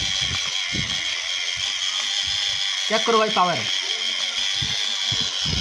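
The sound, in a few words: homemade Sonalika tractor gearbox running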